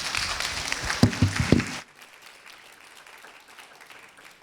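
A church congregation at a service gives a short round of applause after health ministry garden presentations, clapping loudly and briefly with a few whoops before cutting off into quiet room tone.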